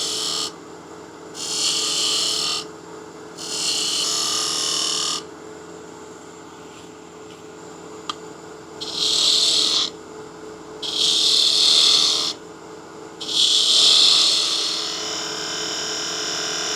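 A woodturning tool cuts a cove into a spinning wood salt or pepper mill blank on a lathe, in repeated bursts of hissing scraping separated by pauses under a steady motor hum.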